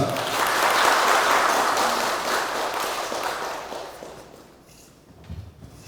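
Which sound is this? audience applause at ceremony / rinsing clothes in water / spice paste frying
audience applause at ceremony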